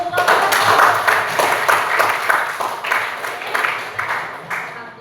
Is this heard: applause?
yes